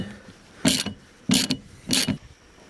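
A ratchet wrench loosens the bolt holding the rear wiper arm on a 2007 Chevy Uplander, heard as three separate close bursts of ratcheting clicks with quiet gaps between them.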